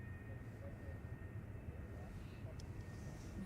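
A Jet2 airliner takes off at Manchester Airport, its engines a steady, distant low roar rumbling under the open air without fading.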